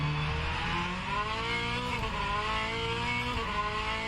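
Hypercar engine in the rFactor 2 racing game, a loud continuous high-revving drone whose pitch climbs and dips through gear changes, with a hint of tire squeal, alone without talk.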